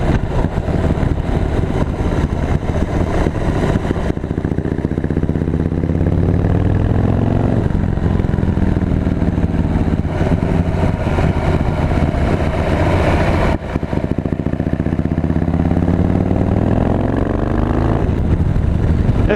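A Harley-Davidson Road King Special motorcycle engine idles steadily and loudly up close, its deep, even rumble continuing without a break and with no talk over it.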